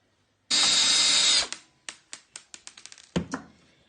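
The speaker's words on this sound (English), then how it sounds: "There's 6 bolts that I'm just going to unscrew and take a look from there." Power drill whirring for about a second as bolts are backed out of a Kenmore Elite freezer panel, then a run of sharp ratcheting clicks and a final burst, close and fairly loud with no talk.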